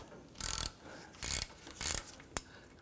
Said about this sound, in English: So I'm going to use my 15mm wrench and ratchet.